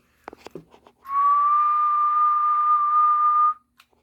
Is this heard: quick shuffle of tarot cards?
no